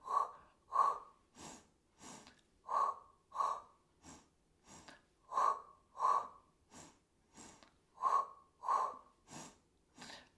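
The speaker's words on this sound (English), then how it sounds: "So we're going to go exhale, exhale, inhale, inhale." Rhythmic breathing during a Pilates exercise: paired exhales and inhales repeat steadily for about ten seconds, close and clear, with no talking over them.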